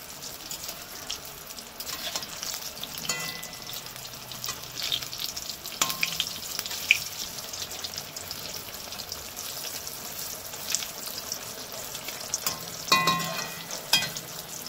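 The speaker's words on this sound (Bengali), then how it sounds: "এদিকে বসিয়ে দিয়েছি পটল ভাজা" Slices of pointed gourd fry in hot oil with a soft, steady sizzle and scattered small pops and crackles, fairly quiet and with no talk.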